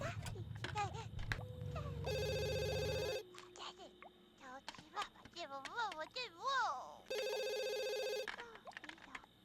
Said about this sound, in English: answer the phone that's been ringing